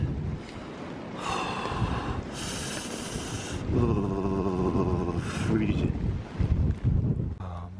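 Strong wind buffets a boat on the water during a snowstorm at a carp fishing lake, a loud, continuous roaring rush with gusting surges and some creaks and knocks from the boat, with no talking.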